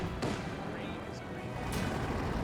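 Tank cannons fire in the Company of Heroes strategy game, two sharp distant reports about a second and a half apart over a dense battle din, with a commentator talking throughout.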